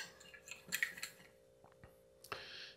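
A fork scrapes and clinks in a bowl of breadcrumbs mixed with basil and seasoning, faint light taps and scratches in short irregular bursts.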